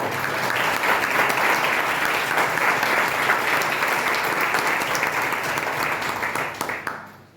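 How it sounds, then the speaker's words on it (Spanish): An audience at a café discussion gathering gives a warm, continuous round of clapping, full and steady throughout before fading out abruptly at the close. "le vamos a dar un aplauso para animarlo."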